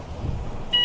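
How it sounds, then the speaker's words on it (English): An onboard sleep alarm on a Vendee Globe racing yacht sounds a sharp, steady electronic beep that cuts in near the end, loud and close over low rumbling boat and wind noise. "That's my sleep alarm."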